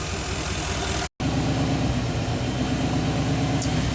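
Classic Chevy engine idling with the throttle raised slightly while running lean on fuel, a steady close mid-pitched drone with a faint uneven knock, cut by one brief dropout.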